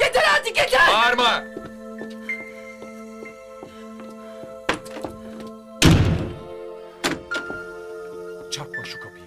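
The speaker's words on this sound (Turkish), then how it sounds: "Çarpma şu kapıyı." A door slams hard with a loud thunk in an apartment in a Turkish comedy series, one heavy bang among smaller knocks, with people talking around it and a sustained musical tone underneath.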